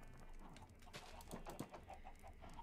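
Chickens in a Minecraft farm, in the video game, cluck softly in scattered short bursts, fairly quiet against a low background hiss.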